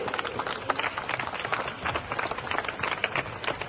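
Students at a martial arts championship event clap for the masters: dense, steady applause from a crowd, close and continuous, with no voices over it.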